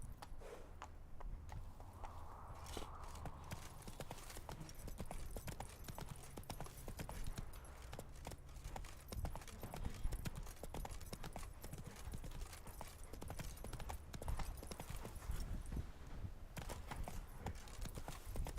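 Roach the horse gallops across open ground in The Witcher 3, a quick, steady clip-clop of hooves that runs the whole time, with a brief whinny near the start and faint game ambience underneath.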